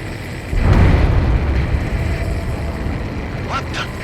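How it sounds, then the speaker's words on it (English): An underwater explosion in the Ace Combat 7 flight combat video game, a deep, heavy rumbling boom that swells suddenly and lingers as a dense roar, with short radio-style voice chatter near the end. "A huge explosion just went off underwater."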